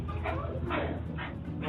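A small white dog lets out several sharp yapping barks in quick bursts, close and fairly loud, with voices mixed in around them.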